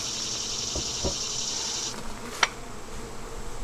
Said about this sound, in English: Oh, that's just loaded with bees.